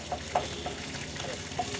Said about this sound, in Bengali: 2 চা চামচ আদা রসুন বাটা দেওয়া হলো, দিয়ে খুব ভালো করে নেড়ে ভাজতে হবে।